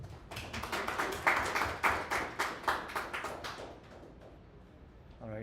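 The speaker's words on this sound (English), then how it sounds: "Let's give up a big round of applause." A meetup crowd at a tech testing event in New York claps in a round of applause, a dense patter of hands that fades out over several seconds.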